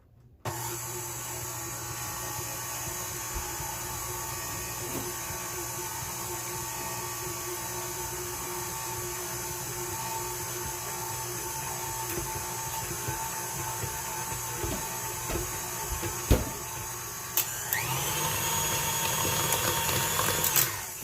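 An electric mixer creams lemon cake frosting on a slow setting, its motor whirring steadily and loudly for about twenty seconds, with a few clunks and a shift in tone near the end.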